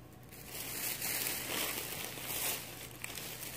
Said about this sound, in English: Sorry for the noise of ruffling through the bag.